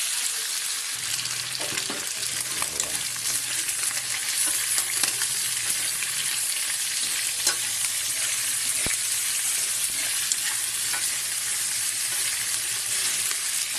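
Chicken fries in a hot wok with a loud, steady sizzle and crackle that runs continuously throughout, close up, with no talking.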